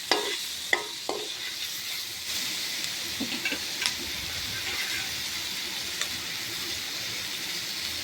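Mushrooms sauté in a pan for mushroom gravy, giving a steady close hiss of sizzling with a few sharp spatula taps and scrapes near the start, then an even fry.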